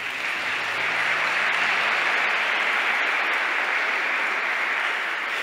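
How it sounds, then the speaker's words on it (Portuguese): A church congregation breaks into loud, sustained applause for its young people, a dense even roar of clapping that holds steady without talk. "Aos nossos jovens, uma salva de palmas"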